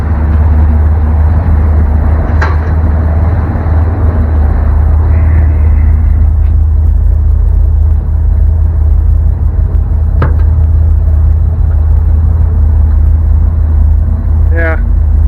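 A 1957 Chevy engine idles with a steady low rumble close by, running smoothly throughout while a person talks over it.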